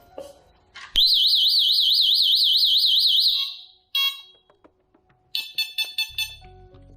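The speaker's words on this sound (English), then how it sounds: "the siren produced a long series of beeps after the usual 2 beeps" A loud warbling electronic siren tone from a Delta Dore home alarm, then a short chirp and a rapid series of shrill beeps close by.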